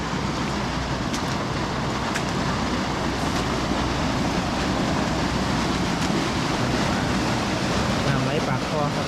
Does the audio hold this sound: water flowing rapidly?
yes